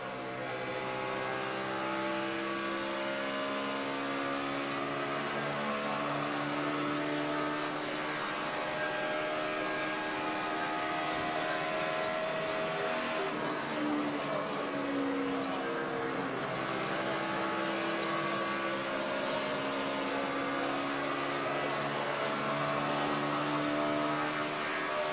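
Onboard a NASCAR Sprint Cup race car driven by Jimmie Johnson at the 2012 Kobalt Tools 400, a continuous, fairly quiet engine drone with slowly sweeping pitch holding steady for the whole stretch, no voices.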